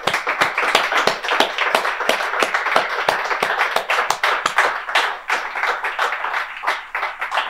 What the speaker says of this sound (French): j'aimerais donner une autre main d'applaudissement à toutes les personnes qui ont pu participer à ce succès